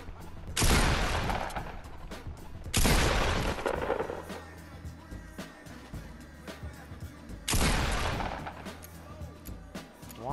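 Gunfire in the battle royale game Fortnite: three loud, broad bursts of shots, each firing off sharply and tailing away over a second or two, with quieter in-game noise between them.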